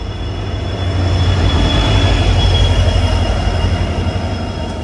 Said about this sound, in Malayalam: ഇത് നമ്മളെ നേരത്തെ കണ്ട ലോക്കോമോട്ടീവാണ്.